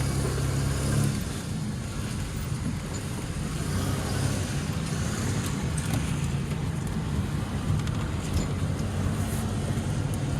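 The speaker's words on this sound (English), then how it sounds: "So I'm going on my test drive." Steady engine and road noise from inside a 1997 Grand Am GTP with a 3800 engine and five-speed on a test drive after a power steering pump replacement, a continuous rumble with mild rises as it accelerates.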